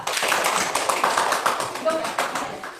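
A classroom of students claps for a student group after a presentation, with quick, uneven handclaps close by and a voice talking over them.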